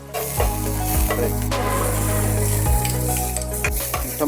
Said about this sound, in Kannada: ಕ್ಯಾಪ್ಸಿಕಮ್ಮು ಬ್ಯಾಡ್ಗೆ ಮೆಣಸಿನ್ಕಾಯಿ ಆ್ಯಂಡ್ ಸ್ವಲ್ಪ ಟೊಮೊಟೊನ ದಪ್ಪದಾಗಿ ಅದನ್ನು ತುಪ್ಪದಲ್ಲಿ ಫ್ರೈ ಮಾಡ್ಕೊಂಡಿದ್ದಾರೆ